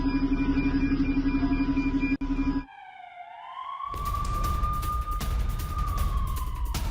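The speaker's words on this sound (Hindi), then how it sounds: "हमले वाली जगह पहुंची एम्बुलेंस" An emergency siren rises and holds a steady wail at the scene of a missile attack in Beersheba, Israel, loud and close amid a noisy broadcast mix, preceded by a different droning tone that cuts out abruptly.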